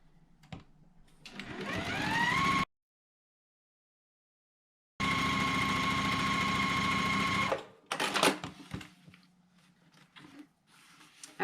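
A sewing machine stitching quilt block pieces together runs in two steady bursts, whirring up to speed, stopping for a short silence, then running again before a few quick clicks and handling noises.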